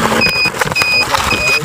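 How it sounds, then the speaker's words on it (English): Three short, high electronic warning beeps repeat at an even pace over a rumbling, noisy background, each tone brief and clearly audible. "It's a battery warning system telling me my battery's starting to get low."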